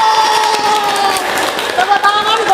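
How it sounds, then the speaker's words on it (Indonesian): Loud, lively clapping and cheering from a group of students during the opening stage of a group counseling practice session, with excited voices and shouts layered over the applause throughout. "Tepuk tangan buat kalian semuanya."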